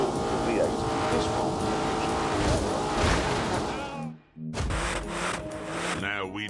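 Lamborghini V8 engine in The Grand Tour racing game, a loud, sustained roar with tire noise that cuts out briefly near the end before resuming, with a voice talking over it.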